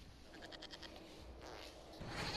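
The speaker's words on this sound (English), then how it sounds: "Goats. Goat." Goats in a video game give faint, wavering bleats in a short run of pulses, then a longer call, set against a low background hum with no talking.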